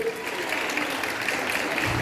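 Audience applause for a presenter at a trade skills presentation at an industrial training institute, a steady dense patter of clapping that continues at an even level throughout.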